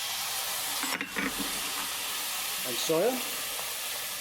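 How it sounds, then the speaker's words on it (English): Mushrooms and onions fry in a pan with a steady, even sizzle and hiss close by, while a voice briefly speaks over the cooking. "So now we've fried the mushrooms and the onions just a little bit."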